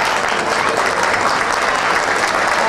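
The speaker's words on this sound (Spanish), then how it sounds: "Bien fuerte, bien arriba esos aplausos." Loud, dense applause from an audience at a centenary lunch and dance for a sports and social club, a steady wash of clapping that holds at full strength throughout.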